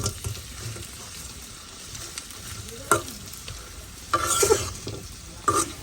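Chicken pieces fry in a pan with a steady low sizzle, while a utensil stirs and scrapes the pan in a few louder bursts near the end.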